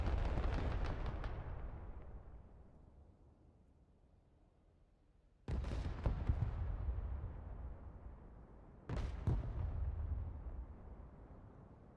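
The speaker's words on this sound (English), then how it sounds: "Where was their artillery shooting from?" Artillery fire and explosions in Broken Arrow, three heavy booming blasts with long rumbling decays, the first fading out before two more sharp impacts follow a few seconds apart.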